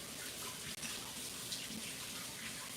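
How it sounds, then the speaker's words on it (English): Steady rush of tap water running over rinsed hands in a home kitchen, continuous and fairly close, with one brief dropout partway through. "I'm gonna give my hands a quick rinse."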